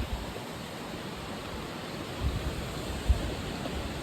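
Pinsal Falls in Sta. Maria, Ilocos Sur, a continuous broadband roar of falling water, steady and fairly close with a couple of brief low thumps.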